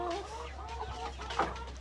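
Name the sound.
Mardi chickens clucking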